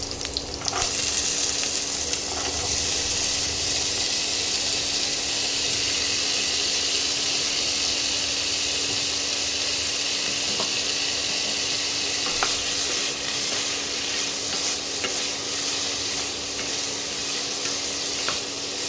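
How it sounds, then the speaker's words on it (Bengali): Potato pieces fry in hot oil for keema ghugni, a loud, dense and continuous sizzle with faint stirring scrapes, close up and steady throughout, with no voices. "এবার এই আলুগুলোকে একটু লাল লাল করে ভেজে নেব।"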